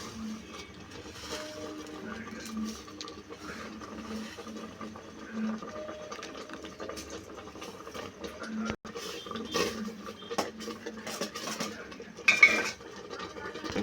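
Dry vermicelli going into a pot of boiling water for semiya javvarisi payasam, stirred with a metal spoon: steady scraping and clinking against the pot, with louder knocks near the end.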